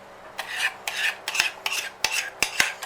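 Flour being stirred into carrot cake batter in a bowl, about seven rhythmic scraping strokes of a utensil against the bowl, evenly spaced and close up, with no voices.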